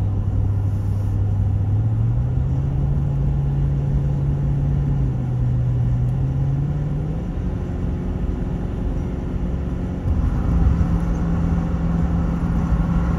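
Pickup truck engine downshifting while climbing on Interstate 40 westbound through the mountains, a steady cabin drone with a tonal engine hum that steps up in pitch around the shift and changes again later, no talking.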